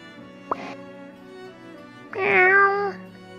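A person's voice imitates a cat meow as a homemade sound effect: a brief click first, then a drawn-out, wavering meow near the end, close and clear over a quiet background.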